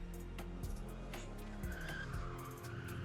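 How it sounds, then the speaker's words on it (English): Car in a video game roaring up to a curb and screeching to a halt, with loud tire squeal sweeping over a steady engine drone, skids repeating across the moment. "car roars up to the curb and screeches to a halt"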